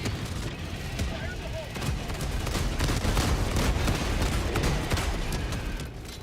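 Rapid autocannon fire in Helldivers 2 at Helldive difficulty, a loud, dense stream of heavy gunshots and booms running nearly continuously, with voices heard under the shooting.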